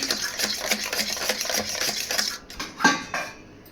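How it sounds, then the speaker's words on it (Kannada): A fork scrapes and mashes peeled pulp in a bowl, giving quick repeated metallic clicks and scrapes in an uneven rhythm, close up, with a louder clatter near the end. "ಮೇಲ್ಗಡೆ ಈ ಥರ ಸಿಪ್ಪೆ ತೆಗೆದು ಒಂದು ಫೋರ್ಕ್ ಸಹಾಯದಿಂದ ಅದ್ರ ಜಲ್ನೆಲ್ಲ ತಗೊತಾ ಇದ್ದೀನಿ"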